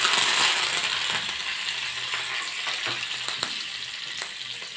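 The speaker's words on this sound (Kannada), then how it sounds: "ಕರಿಬೇವು ಹಾಕ್ತಾ ಇದ್ದೀನಿ." Curry leaves hit hot oil already crackling with mustard and cumin seeds, giving a loud, steady sizzling hiss with scattered sharp pops, strongest at the start and easing slightly over several seconds.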